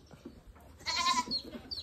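A goat bleats once loudly and close by, a wavering cry lasting about half a second, set against quiet farmyard background with faint rustling before and after.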